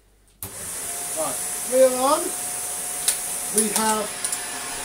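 A Shark DuoClean NV801 vacuum cleaner, just repaired and unclogged, runs with a steady whirring hum and a high whine from start to finish while a person talks over it.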